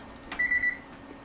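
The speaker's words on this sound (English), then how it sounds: "we're going to preheat our oven to 250 degrees" A kitchen oven set to preheat to 250 degrees, giving a button click followed by one steady electronic beep lasting about a third of a second, close and clear with no voices.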